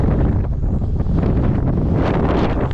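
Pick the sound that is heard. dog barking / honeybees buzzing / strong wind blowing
strong wind blowing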